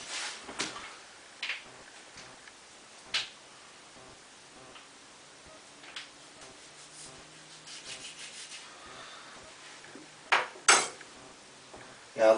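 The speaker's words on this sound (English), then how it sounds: "I have to grab a knife because I can't open that" A knife works at a plastic wine finings packet during home brewing of cherry chardonnay, making faint rubbing and scraping with a few sharp crinkles and clicks close by, sparse at first and busier toward the end.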